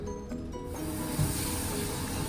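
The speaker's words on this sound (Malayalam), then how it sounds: "നമുക്കിനി ഒരു തവി മാവ് ഒഴിച്ചിട്ട് അതൊന്ന് ഈവനായിട്ട് സ്പ്രെഡ് ചെയ്ത് കൊടുക്കാം" Oats dosa batter is ladled onto a tava over medium heat and spread evenly, producing a soft, steady hiss with faint scraping, close and quiet throughout, with no talking.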